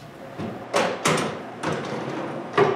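Wooden drawers slid back into place in a homemade cabinet for scrap wood, giving several sharp knocks and thuds with sliding scrapes between them, close and moderately loud.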